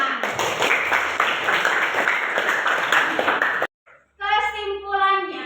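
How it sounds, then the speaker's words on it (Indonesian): Students in a classroom clap in a burst of brisk, close applause lasting a few seconds, then it stops abruptly and a voice speaks. "Tepuk tangan"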